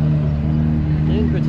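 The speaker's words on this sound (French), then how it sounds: "Belle sonorité. F355 GT" A Ferrari F355 GT at a cars and coffee gathering in Monaco gives a steady, loud, close engine drone with a strong low hum. A slight rising tone comes near the end, and a voice talks faintly over it.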